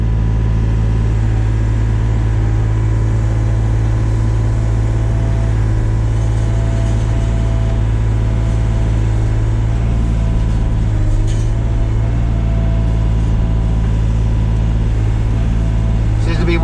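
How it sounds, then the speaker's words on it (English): A brush cutter mower attachment on a SANY SY35U mini excavator spins with a loud, constant hydraulic and engine drone that stays steady throughout. "See the mower spinning, and now it should continue to spin."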